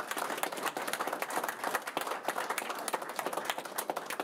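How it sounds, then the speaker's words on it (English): Applause from the audience at a Minnesota House DFL press conference honouring representatives and senators, a dense, steady patter of clapping hands lasting throughout, fairly close and even, with no voices over it. "Round of applause for the representatives and senators that are here"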